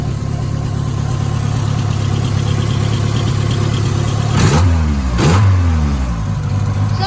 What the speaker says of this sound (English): Sounds like a supercar.